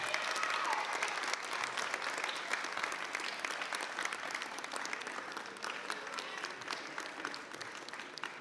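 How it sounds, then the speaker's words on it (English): Students at a high school assembly applaud their teachers with sustained, fairly even clapping that fills the room for several seconds, with a faint murmur of the crowd beneath it. "let's give them a round of applause for the things that they're doing for you"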